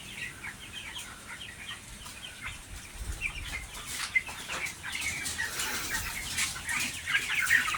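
Young chicks, about 25 days old, peep and cluck in a group close by, with scattered bird calls, some wing flutters and soft background rustling throughout.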